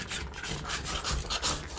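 A scraper drags softened wallpaper glue off a wall in quick, close, gritty rasping strokes that repeat unevenly across the moment, loud and dry with no talking over them.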